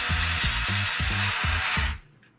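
Eclipse 4V Li-Ion cordless screwdriver running in short, rapid pulsing bursts over a steady whine, close and fairly loud, then spinning down to quiet.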